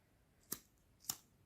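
Scissors snip crochet thread twice, two crisp, close cuts about half a second apart in a quiet room.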